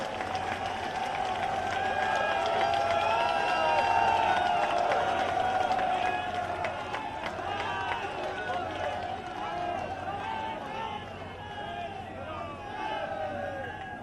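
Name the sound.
crowd applauding to welcome Yogi at a rally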